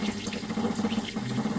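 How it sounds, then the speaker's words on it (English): Running tap water splashes steadily into a kitchen sink as a bowl is rinsed, a continuous close gush with no talking. "Now we gotta rinse."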